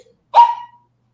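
A single short bark from a pet dog, close and sharp, with silence before and after.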